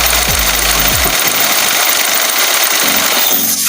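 Mitsubishi Mirage G4 engine running, a loud steady close-up drone with a low throbbing rumble at the start and no voices.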